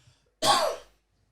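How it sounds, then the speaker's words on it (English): A single close, sharp cough, a short throaty burst from one person, alone in otherwise near silence. "I'm just gonna turn off my mic to cough for a second"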